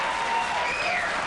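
Late-night television studio audience applauding, a brief, dense burst of clapping heard alone.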